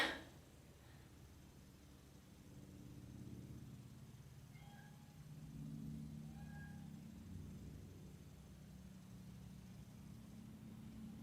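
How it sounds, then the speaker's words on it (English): A pet cat, a greedy male, meows a few times at moderate distance in a quiet indoor room over a low steady background hum. "can you hear my cat?"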